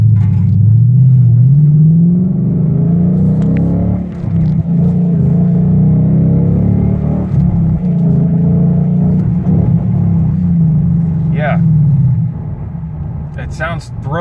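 A deep, muffled exhaust rumble from a 2015 Ford Mustang S550 climbs in pitch as the engine accelerates hard from takeoff, then settles into a long, steady throaty drone.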